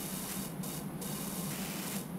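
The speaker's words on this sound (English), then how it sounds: "just spraying underneath that chimney bit" A pressure washer in PowerWash Simulator sprays under a house's chimney section, a loud continuous hissing jet with a few brief dips in the high hiss as the spray shifts.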